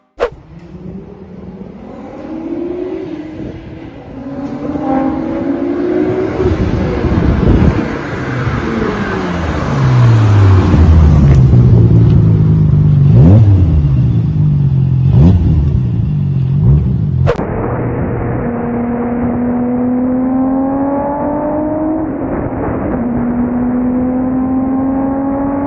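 Nissan Skyline R34 GT-R engine revving hard, climbing through repeated loud sweeps with sharp pops and backfire cracks, then settling into a steady high drone near the end; no one talks over it.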